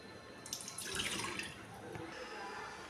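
Water poured from a cup into ragi flour in a bowl while making idiyappam, a faint, close splash and trickle lasting a couple of seconds, with no talking.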